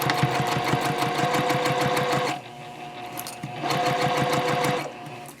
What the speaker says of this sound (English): Now I'm going to sew all of the layers together, and I am sewing from the inside of the stocking.